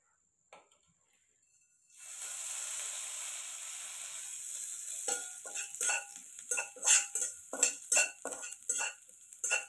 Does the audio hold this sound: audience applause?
no